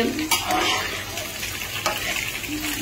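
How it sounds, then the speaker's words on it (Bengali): Fish seasoned with turmeric and salt frying in a pan gives a soft, steady sizzle with a few light clinks of a utensil against the pan. "মাছ ভাজি করা হচ্ছে।"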